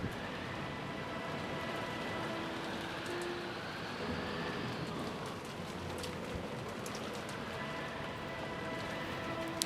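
Steady storm rain pours over a garden of roses in the visual novel Umineko, a dense continuous hiss that holds even and unbroken throughout with no voices.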